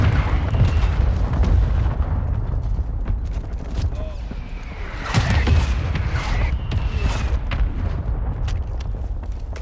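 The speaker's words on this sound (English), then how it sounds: "Hostile mortar strike near your position." Call of Duty Warzone 2.0 mortar strike: deep booming explosions roll out from a continuous rumble of battle, one heavy blast standing out partway through, with scattered gunfire and game radio voices mixed in.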